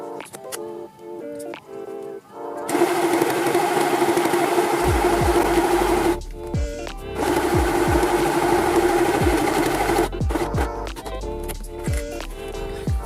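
A sewing machine stitches along the edge of leather trousers in long continuous runs, a fast mechanical whirr with short pauses between bursts and faint ticks in the quieter gaps.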